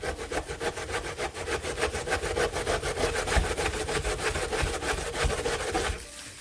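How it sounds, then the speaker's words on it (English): Potatoes are grated by hand on a grater in quick, rhythmic back-and-forth rasping strokes, close and steady for several seconds before stopping, with no talk. "put on your cut gloves and then start grating"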